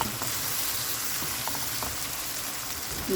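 Tomatoes fry in a pan for mushroom biryani, giving a steady, fairly loud sizzle throughout with a few faint stirring scrapes and no talk.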